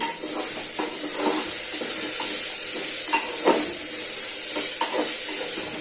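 Rajma masala rice is stirred and sautéed in a pan, with a bright steady sizzle broken by repeated scraping and clinking strokes of the spoon, close up and without talk.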